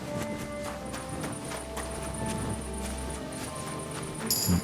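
Horse hooves clip-clopping in the medieval game Kingdom Come: Deliverance 2, a steady walking rhythm of hoof strikes over game ambience and a sustained tone, with a brief louder clatter near the end.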